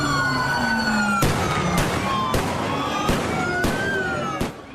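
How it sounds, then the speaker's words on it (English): Flashbangs thrown by federal agents to scatter protesters during an immigration raid in downtown Los Angeles, heard as several sharp, loud bangs in an irregular series, with sirens wailing steadily underneath. "federal agents hurling flashbangs into the air, trying to scatter protesters during an ICE raid"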